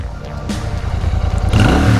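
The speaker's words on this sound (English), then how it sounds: "If you want to hear to the sound, can you rev the engine?" A Royal Enfield Super Meteor 650 motorcycle engine idles with a rumbling grunt, then revs up loudly near the end, close by with no voices.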